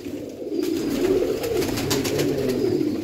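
Breeder pigeons coo in a low, soft, continuous murmur close by, a steady throaty hum filling the short stretch.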